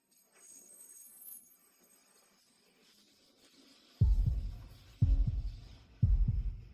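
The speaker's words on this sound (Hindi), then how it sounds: "मेरा दिल तेज धड़कने लगता है।" Heartbeat sound effect of a racing heart: three deep, loud thumps spaced about a second apart after a quiet, hushed stretch with no talking.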